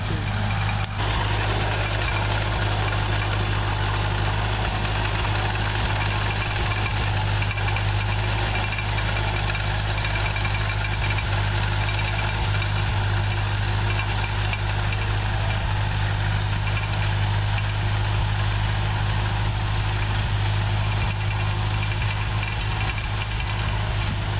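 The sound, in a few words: tractor engine idling while backing up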